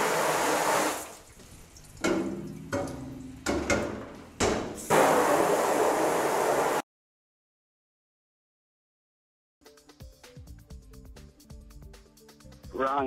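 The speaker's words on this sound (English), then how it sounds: "Get the screen wet on both sides as usual, but you do want to let it soak for a little bit longer." Water sprays across a screen printing screen coated with thick emulsion to soak it before washout, a loud hissing rush in uneven bursts for several seconds that then stops dead, followed later by quieter clattering handling sounds.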